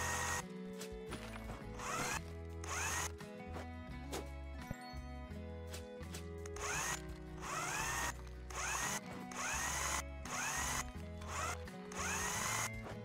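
Power screwdriver driving screws in the building game House Builder, with repeated short whirring bursts over a steady musical backdrop and no voice.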